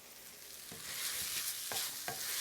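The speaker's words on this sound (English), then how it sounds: "I just toss it around in here with the spices and the tomato and the oil, and just kind of cook it, fry it a little bit" Rinsed, soaked basmati rice sizzles in hot oil with spices and tomato, a soft, steady crackle broken by a few scraping stirs, heard close and fairly quiet with no voices.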